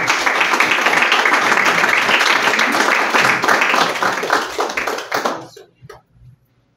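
Audience applause following a poetry reading at a literary event: dense, loud clapping from a crowd with voices mixed in, sustained for about five seconds before thinning out into a few last claps and then silence.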